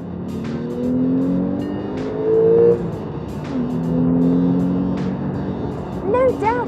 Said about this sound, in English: enjoy the high-revving flat-six engine